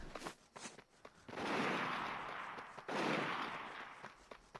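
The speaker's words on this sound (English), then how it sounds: "Well, I hear gunfire, but I don't think I'm going to investigate." Two sustained bursts of rapid gunfire in the video game inFAMOUS 2 roar in succession, loud and dense, with a few sharp clicks and thuds before them.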